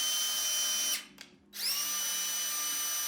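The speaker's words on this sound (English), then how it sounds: "Our drill is currently doing about 18 kilometers per hour." A power drill spins the speedometer of a 1981 Honda XL125s: a steady high whine that cuts out for about half a second, then spins back up and holds its pitch, close and alone.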